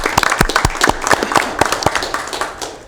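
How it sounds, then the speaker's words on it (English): A round of applause breaks out at a Sacramento Metropolitan Air Quality Management District board meeting, with a modest group of hands clapping at close range in a lively, uneven rhythm. "let's just give her a big round of applause for Breathe California's work."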